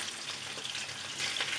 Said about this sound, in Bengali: আর একটু আলু ভাজা ছিল, আমি ওটা দিয়ে দিলাম।